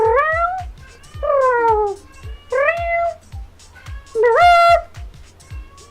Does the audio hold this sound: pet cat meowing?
yes